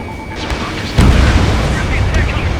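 Bombs exploding in the Ace Combat 7 combat flight game, a sudden deep boom that swells into a sustained rumbling roar, loud and continuous.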